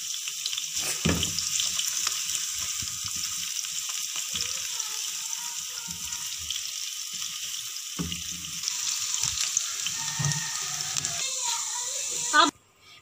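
A small onion fries in half a cup of hot oil for mutton pulao, giving a steady sizzle throughout with occasional stirring clatter, and it stops abruptly near the end.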